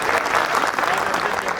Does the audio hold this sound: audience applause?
yes